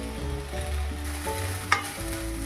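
Sago pearls frying in ghee in a pan, with a steady close sizzle, low bubbling and one sharp stir or clink partway through, and no talking.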